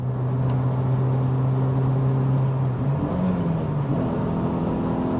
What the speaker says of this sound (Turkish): Hakikaten çok güzel motor sesi var bu arabanın.